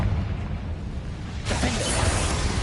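A Confringo blast spell exploding in Hogwarts Legacy, a sudden loud burst about halfway through after a low rumbling lead-in, followed by a bright crackling tail.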